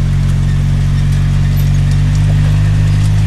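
The Halloween Express train at a pumpkin patch in Bismarck, North Dakota runs through a narrow tunnel. Its engine makes a loud, close, continuous low rumbling drone, with no talking.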